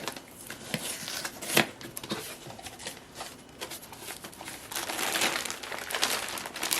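Crinkling plastic bags and cardboard rustle while a Stags Leap District Merlot wine kit box is unpacked, a busy run of close handling noises that swell louder toward the end, with no talking.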